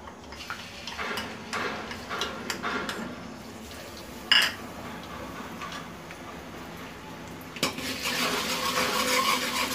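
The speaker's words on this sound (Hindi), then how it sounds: "मिर्ची को तेल में अच्छा फ्राई कर लेना है कच्चापन जाने तक।" Green chilli and garlic paste frying in oil in a kadhi pot, with soft background sizzle under scattered clinks and scrapes of a spoon stirring against the pan, plus a couple of sharper utensil knocks.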